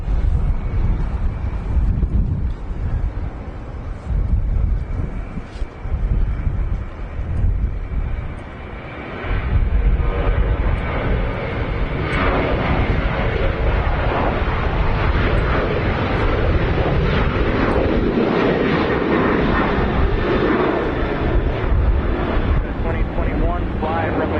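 An Emirates Airbus A380 Super on flight 231 from Dubai at Washington Dulles airport gives a loud, continuous jet roar. The roar swells and holds throughout, with wind buffeting the microphone.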